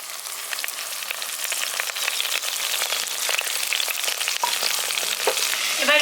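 Peanuts and curry leaves frying in oil in a pan for lemon rice, a close steady sizzle full of quick crackles and spits, building slightly louder toward the end without any voices.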